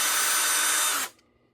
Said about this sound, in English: So I'm going to set this up, this drill, and start going in